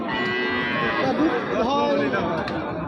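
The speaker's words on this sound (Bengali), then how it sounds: "এটা অস্ট্রেলিয়ান জাতের একটা গাভি" An Australian-breed dairy cow, about six teeth old, moos at a 2024 cattle market: drawn-out, wavering bellowing calls fill the clip, close and loud, over a murmur of background voices.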